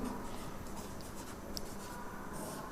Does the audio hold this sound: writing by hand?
yes